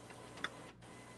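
An Epson WF-7210 inkjet printer running a printhead cleaning cycle gives off a faint, steady mechanical hum broken by a single soft click, with no voices.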